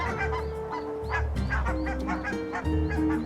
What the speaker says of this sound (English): Bravely, the goslings follow their orders.